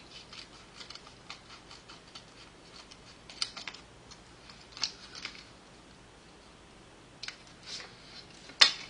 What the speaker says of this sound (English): I'm going to cut these in half this way.